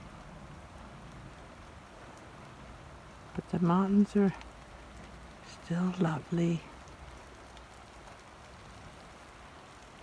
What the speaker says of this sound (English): Our first morning in Glacier. 7 in the morning. It's drizzly rain.